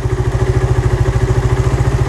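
A Suzuki Satria FU motorcycle fitted with an RX King carburetor running at a steady idle, loud and close, with a rapid, even pulsing exhaust beat and mechanical clatter.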